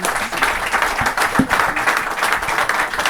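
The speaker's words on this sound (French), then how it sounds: "Je crois qu'on peut les applaudir." An audience at a conference on AI applauds steadily, a dense wash of many hands clapping that holds evenly throughout.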